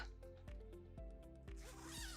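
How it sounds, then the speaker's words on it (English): A zipper is pulled closed on a baby sleep sack, giving a few short rasping strokes heard faintly beneath soft music. "and you zip back up."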